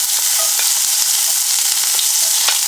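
Onion dropped into very hot canola oil sizzles steadily, a dense continuous hiss with faint scraping stir clicks, close and loud with no talking, while Guyanese cassareep chicken is cooked.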